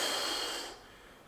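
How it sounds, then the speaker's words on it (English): A single close, breathy inhalation taken during a side stretch in an exercise session, loud at first and then fading out after under a second. "Breathing in,"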